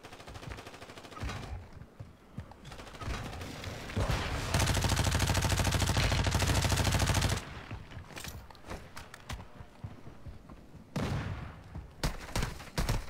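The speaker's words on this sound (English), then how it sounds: "Friendly airstrike in the AO." Gunfire and an airstrike in Call of Duty: Warzone, with rapid automatic bursts and a heavy sustained blast roar in the middle, loud and close, then scattered shots continuing to the end.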